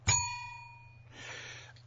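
One clear metallic bell ding rings out and decays slowly, followed by a softer rattling tail, quiet and with no talk.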